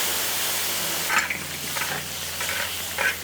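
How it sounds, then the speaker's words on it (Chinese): Cola pork ribs sizzle in a pan after cooking wine is drizzled around the edge, giving a steady close hiss and crackle with a few brief bursts of louder spitting. "再来锅边淋上几圈料酒"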